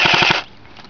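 A CYMA 1928 Thompson airsoft gun fires a short, rapid burst of about four BB shots, loud and close, with a brief mechanical trailing tail afterward.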